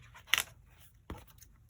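Scissors cut a paper piece for a journal, giving two short, crisp snips close up in an otherwise quiet room.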